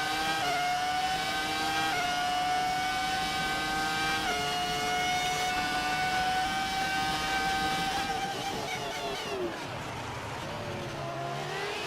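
Classic Formula 1 race car engine in the F1 2018 video game at Bahrain, a loud, steady high-pitched whine holding its pitch with occasional gear-shift drops, then falling away near the end.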